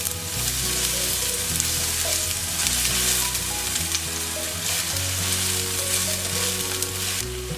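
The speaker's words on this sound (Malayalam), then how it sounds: "പാൻ ചൂടായതിലേക്ക് നമുക്ക് സവാള ഇട്ട് കൊടുക്കാം" Chopped onions sizzle steadily in hot olive oil in a heated pan, a dense, continuous crackle that fills the whole clip at close range with a low tonal backing underneath.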